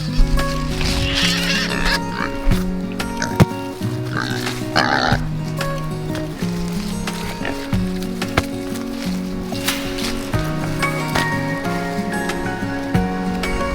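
Hungry pigs squealing and grunting while begging for food, a loud continuous chorus of overlapping close-up squeals throughout.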